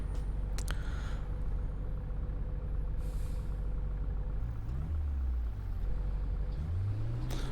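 Engine of a Mercedes-Benz Sprinter W906 van in Fernbus Simulator: a steady low idle rumble with a brief hiss partway through and two rising revs near the end, heard alone.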